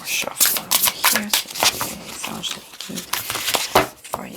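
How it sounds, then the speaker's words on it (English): Tarot cards are shuffled in quick, crisp riffles and flicks, nearby and uneven in rhythm, with a voice speaking intermittently over them. "More shuffle over here."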